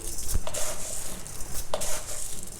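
Coriander seeds and chana dal sizzle in a teaspoon of oil in a kadai, a soft steady frying hiss broken by a few sharp clinks of a spoon stirring against the pan.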